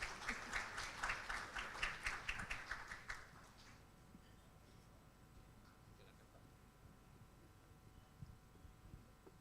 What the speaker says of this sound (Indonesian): Boleh tepuk tangannya dong, sepi sekali.